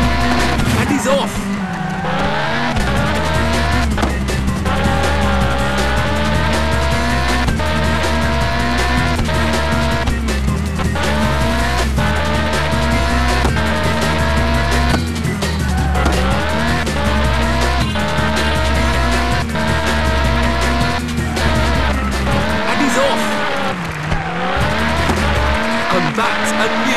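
A race car roars off and keeps driving in the PS1 game Test Drive Le Mans, its engine whine rising and falling through gear changes with tire squeal, loud and continuous, with a race commentator talking over it.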